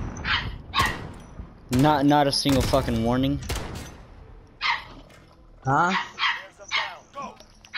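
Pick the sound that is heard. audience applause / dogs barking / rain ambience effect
dogs barking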